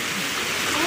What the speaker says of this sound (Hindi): बहुत तेज हो रही है अब तो, और तेज होने लगी बारिश।